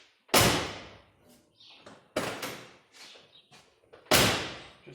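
Car door on a 1968 Mustang opened and shut, giving three loud, close slams separated by quieter latch clicks and handling clunks, with no talk.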